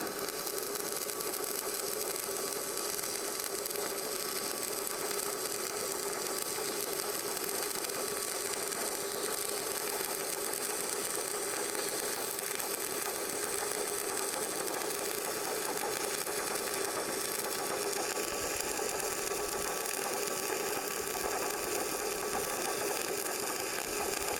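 Stick arc welding lays a zigzag filling pass along the bevel of thick steel plate, with slag forming behind it: a steady, close, continuous frying crackle that runs unbroken throughout, with no talk.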